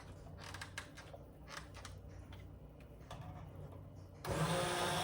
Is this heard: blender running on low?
yes